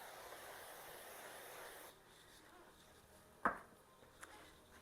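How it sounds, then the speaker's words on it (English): A brief spray of cooking oil onto a 13 by 9 baking pan hisses for about two seconds, then stops, followed by quiet room tone and a soft clunk. "13 by 9 pan, we're going to go ahead and spray that."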